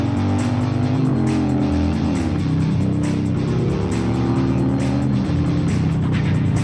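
A Harley motorcycle engine rumbles loudly and continuously while being ridden, a deep steady drone with slight shifts in pitch throughout.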